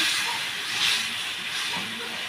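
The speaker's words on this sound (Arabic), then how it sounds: "الشطة حمصت في الزيت اهو" Chili sauce sizzles in hot oil for Egyptian koshari, giving a loud, steady hiss close by that swells slightly midway and holds without pause.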